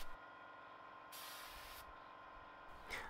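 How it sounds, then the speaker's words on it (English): A spray gun hisses steadily in short bursts as a first aid cabinet gets painted in a spray booth set up outdoors. The sound is quiet and even, with no voices. "I set my spray booth up outside and then I can get it painted."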